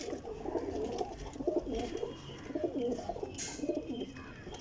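Flying pigeons kept for sale coo steadily and close by, soft repeated low calls rolling on without pause, with faint background noise.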